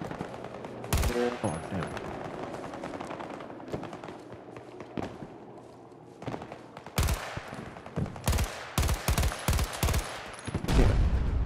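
A tank fires in Battlefield 2042 amid a firefight: a series of sharp, heavy blasts hits at irregular intervals, growing more frequent toward the end, over background battle noise, with a brief spoken exclamation.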